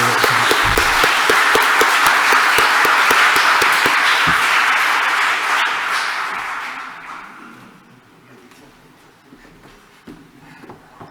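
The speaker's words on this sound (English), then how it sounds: "I'd like you to give them a round of applause" Audience clapping for the speakers at an international animal welfare conference session, a steady roomful of applause that fades out over several seconds into quiet room tone.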